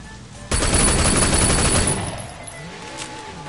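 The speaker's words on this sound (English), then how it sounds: "I gotta shoot this open or something?" Gunfire in the video game Sleeping Dogs, heard as a loud, rapid burst of automatic shots lasting about a second and a half that then trails off into a fading echo.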